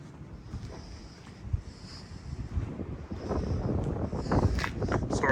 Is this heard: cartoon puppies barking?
no